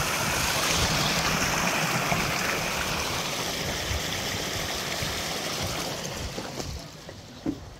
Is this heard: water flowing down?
yes